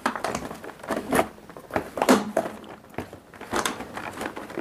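A knife cuts through a chocolate donut in a crumb-cake style dessert tasting, giving a series of soft crinkly, crunchy bursts in an uneven rhythm, close and quiet, with no talking.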